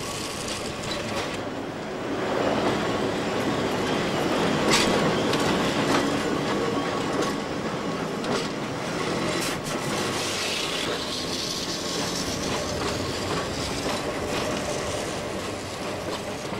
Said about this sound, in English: This is the final run, worked by battery locos number L44 and L21.